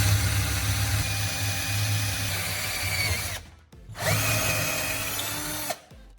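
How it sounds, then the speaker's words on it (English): A power drill bores straight through a wooden board in two sustained, loud whirring runs separated by a short pause, then stops abruptly. "At one end, drill a clean hole straight through the board."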